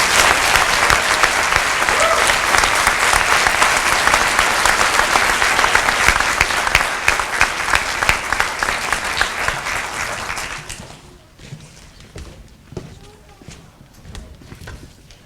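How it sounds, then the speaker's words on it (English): Loud, sustained audience applause at a police awards ceremony fills the room for about ten seconds, then thins to scattered claps and faint murmuring. "Another round of applause for our heroes."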